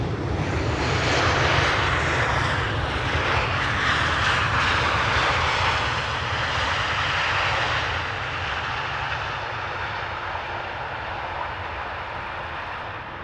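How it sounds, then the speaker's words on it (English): A Transavia airliner landing at Amsterdam Schiphol Airport: a loud, broad jet roar that holds steady and fades slightly as the aircraft passes, with no talking. "In the meantime, a Transavia relocation flight landing over here."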